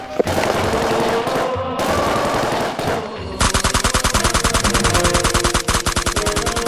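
Sustained rapid automatic gunfire in a staged India–Pakistan battle scene with soldiers: dense, loud repeated shots fill the clip, first as a continuous roar, then as a crisp, evenly spaced machine-gun burst in the second half, with no talking.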